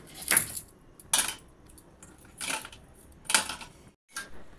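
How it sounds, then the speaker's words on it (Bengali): Live, bound crabs being cut up for crab curry, heard as five distinct crisp cracking snips at an uneven pace, close and fairly loud against a quiet background. "আস্তে আস্তে করে কাঁকড়াগুলো কেটে নিচ্ছি।"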